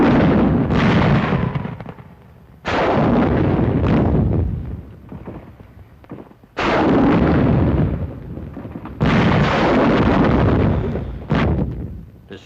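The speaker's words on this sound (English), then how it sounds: "Bazookas fire on Jap tunnel positions at hill number 1." WWII bazooka rounds fired at Japanese tunnel positions in rough hill country, heard as a series of loud, booming blasts, each followed by a rumbling decay, about five heavy bursts spread irregularly over the stretch with no talking.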